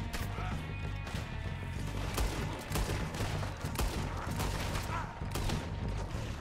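Repeater rifle gunfire in Red Dead Redemption 2 cracks out in rapid repeated shots, loud and sharp, mixed with scattered distant gunfire and mechanical clatter throughout a chaotic firefight.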